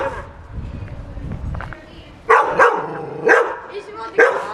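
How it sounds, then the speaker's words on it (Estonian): A dog on a trip around Tenerife gives three loud, evenly spaced barks after a stretch of low background murmur, with voices nearby. "tule vaata koera"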